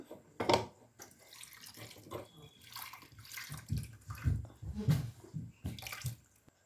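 Water pours from a tap onto sliced cucumber in a cooking pot, a close splashing stream arriving in uneven surges with brief gaps between them.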